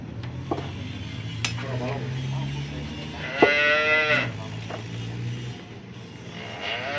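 On a dairy farm where cows have just been milked, one loud, drawn-out moo rises from nearby amid low background murmur, light clattering and faint mechanical noise.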